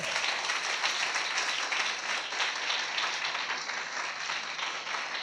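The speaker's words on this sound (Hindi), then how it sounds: "जोर से ताली बजाए प्रभु के लिए" A church congregation claps loudly for the Lord during a Hindi worship service, a dense, steady roar of many hands that continues without a break for several seconds.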